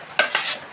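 A ground pepper mixture is stirred in a pot, heard as two or three short, close scraping swishes of a spoon in quick succession, loud and alone.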